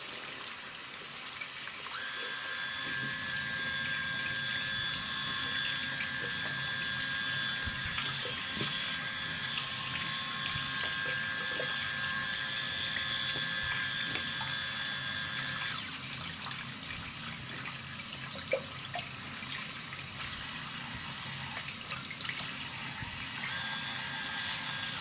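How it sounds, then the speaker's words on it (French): A waterproof Xiaomi Mijia electric shaver held under a running tap, with a steady hiss of water flowing over it for the full stretch, its pitch changing slightly partway through, and no talk. "on va le mettre sous l'eau maintenant, on va voir ce que ça donne"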